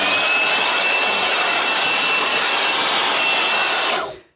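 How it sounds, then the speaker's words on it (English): A Craftsman 20-volt cordless mini blower runs steadily as a loud, close, hissing whoosh of air with a faint high whine, then cuts off and quickly fades to silence. "Right here, I keep the Craftsman. It's a little mini blower."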